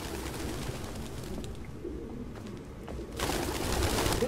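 Pigeons coo softly in Detroit: Become Human, low muffled calls under a dense outdoor city ambience that swells louder toward the end, with no voices present.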